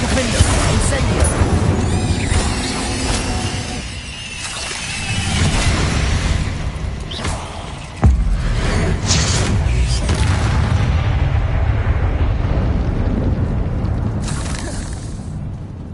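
Fire spells exploding in the game Hogwarts Legacy, with heavy booming blasts and crackling bursts, one sharp impact midway, over dense battle noise; a voice speaks at times.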